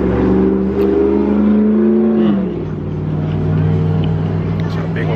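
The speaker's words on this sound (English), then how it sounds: "Truck just went down the road." A truck drives down a road near an outdoor burger meal on a spring day at Oak Island, North Carolina, its engine droning loud and close before the pitch drops as it passes, with low traffic rumble continuing afterward.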